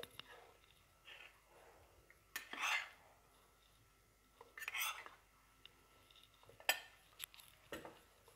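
A spoon works yeast into a bowl of dough for chocolate rolls, folding from bottom to top; several soft scraping and clinking strokes come in short, quiet bursts with pauses between them.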